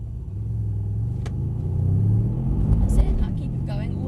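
A Mercedes C63 AMG sedan accelerates at full power on a wet track, its deep engine rumble building and rising in pitch under an instructor's voice.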